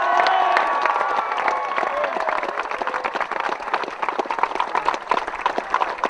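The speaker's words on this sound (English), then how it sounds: "Big round of applause, please, for silver medal winners, Christ College." A crowd claps and cheers for a silver medal boys' under-18 rowing eight at a regatta, loud at first then thinning into scattered claps with shouts and voices mixed in.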